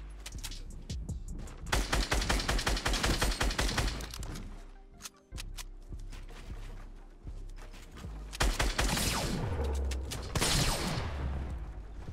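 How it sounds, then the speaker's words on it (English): Loud gunfire in a Fortnite solo-versus-squads battle, with sniper rifle shots among rapid repeated bursts of shooting that come in long volleys, pause briefly and then start again up close. "someone else is sniping at me"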